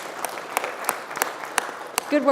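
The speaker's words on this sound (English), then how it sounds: "let's give them a round of applause" A small crowd applauds lightly, with scattered claps standing out, and a voice begins speaking as the clapping ends.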